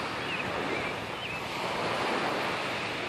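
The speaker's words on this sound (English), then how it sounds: "This is the beach in Hamilton." Steady roar of lake waves and wind at the beach in Coronation Park, Hamilton, a continuous broad wash with gusty buffeting of the microphone and no voices.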